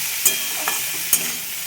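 Sambar vegetables fry and sizzle in a pan with red chilli powder, a steady hiss broken by a few sharp clinks of a spoon stirring against the metal.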